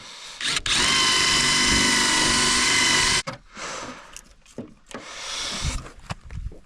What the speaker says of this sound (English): You have to drill them out a little bit more if it's not coming off.